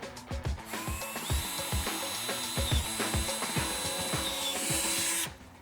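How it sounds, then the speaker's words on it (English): A drill bit bores straight down through soft plastic on a UV sterilizer housing, giving a steady motor whine with repeated low thumps as the bit bites, running continuously for about five seconds before stopping. "I've got a drill bit which is the right size for the bolt that we're using, and I'm just going to drill straight down the center."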